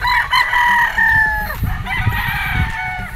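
Gamefowl rooster crowing at a farm selling battle stags and pure breeds, a loud drawn-out crow with harmonics, followed by more crowing and clucking among other birds nearby, with no talk.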